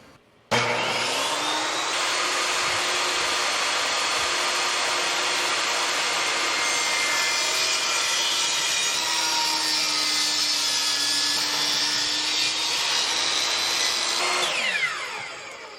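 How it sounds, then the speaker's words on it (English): A power saw rips a long notch down a wooden 2x2 for a camper bed frame, producing one sustained loud whining cut of about fourteen seconds that starts abruptly and winds down at the end. "Basically cut a little block all the way down the 2x2."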